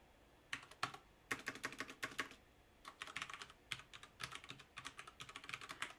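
Computer keyboard typing as code is written, quick bursts of close, crisp key clicks separated by short pauses, with no talking.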